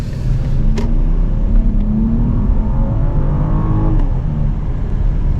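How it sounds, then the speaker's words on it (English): A BMW 7 Series engine revs up on the road, a loud steady low rumble with a slowly rising tone and a couple of brief clicks, heard from inside the car with no one talking. "that was just the engine noise of this car. I gave it a little push"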